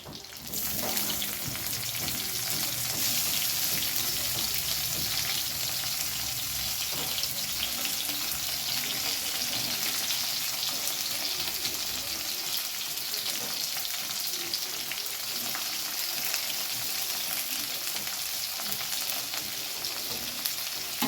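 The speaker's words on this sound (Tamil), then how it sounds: "தக்காளி நல்லா வதங்கட்டும்." Tomatoes and onions sautéing in a hot pan give a steady, close sizzle and hiss that carries on evenly without pause, with no talking.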